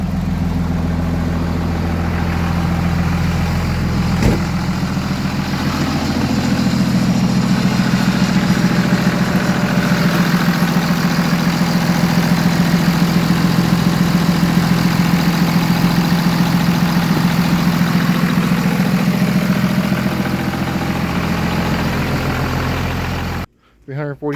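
An old 1999 24-valve engine with about 340,000 miles idles steadily nearby, a low, even rumble with a slight rise in revs midway, running alone for over twenty seconds before cutting off abruptly.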